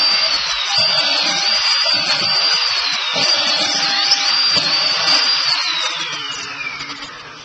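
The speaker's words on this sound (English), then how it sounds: "Show you what this small 400 hertz drill will do." A quarter-inch Milwaukee electric drill converted to 400 hertz whines steadily at a high pitch, loud and close, then winds down near the end as the motor slows.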